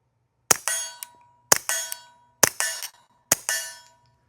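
A Mauser HSr .22LR rifle fires four evenly spaced sharp shots, each with a metallic clang and ringing tail, as the case fails to fully eject.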